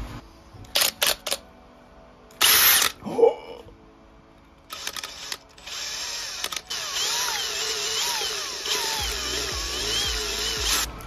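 A power drill spins a 3D-printed paint mixer, starting after several short clicks and bursts, then running as a steady, loud, close whir with rising and falling pitch, with no talk.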